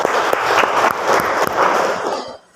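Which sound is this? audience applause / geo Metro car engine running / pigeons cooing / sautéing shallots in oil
audience applause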